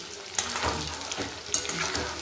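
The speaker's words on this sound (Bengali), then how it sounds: "চিকেনগুলোকে আমি এবার উল্টে হালকা করে ভেজে নিচ্ছি।" Chicken pieces for chicken manchurian sizzle in hot oil in a wok as they are turned, a steady close frying crackle with a few louder stirring bursts.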